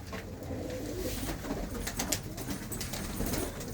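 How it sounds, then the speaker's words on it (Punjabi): Several pigeons kept by a fancier coo in a loft, a soft, continuous murmur of overlapping throaty calls close by with light rustling and wing sounds. "ਬਸ ਆਹ ਜੋੜਿਆਂ ਵਾਲੇ ਰਹਿ ਗਏ ਕਬੂਤਰ"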